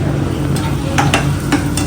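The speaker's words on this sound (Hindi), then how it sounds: "दाल तड़का बन रहा है।" Dal tadka being stirred and sizzling in a pan, a loud, steady frying hiss broken by several scraping strokes of a spoon, close by and heard without talking.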